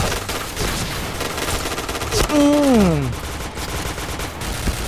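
Dense bursts of gunfire in the online shooter Point Blank, layered and continuous across the clip, with a rising-falling whine and a loud swell midway as rounds and explosions pile up.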